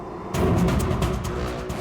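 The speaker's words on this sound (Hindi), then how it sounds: "सर, अभिजीत सर की गाड़ी।" A car in a jungle comes in with a sudden, steady rush of engine and road noise, close and fairly loud, lasting under two seconds.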